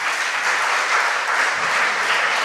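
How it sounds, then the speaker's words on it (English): A hall audience at a national junior science and maths quiz championship breaks into loud, dense applause, a continuous close roar of clapping with no pauses. "Another round of applause for them."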